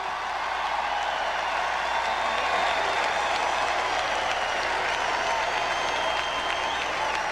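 Delegates at the 1988 Democratic National Convention give steady, roaring applause and cheers filling a large hall, a dense distant wash of clapping and crowd noise without pause.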